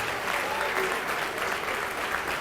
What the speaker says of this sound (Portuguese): Então vem e vamos aplaudir mais ao nome de Jesus.